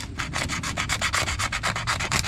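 Paint is hand-sanded off a car oil pan, a close, steady back-and-forth scraping of abrasive on metal in quick regular strokes with no talking.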